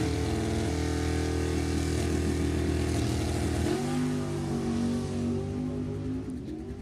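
A 1991 Firebird and a 1967 Camaro roar side by side in a drag race, loud sustained engine drone holding steady, then the pitch shifts as they pull away near the end.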